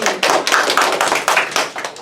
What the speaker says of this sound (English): Round of applause for Adelaide's